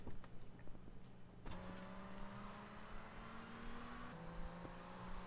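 A car in GTA Vice City hums along with a faint, steady engine drone that shifts pitch twice as it changes gear or speed, quiet and continuous with small knocks early on.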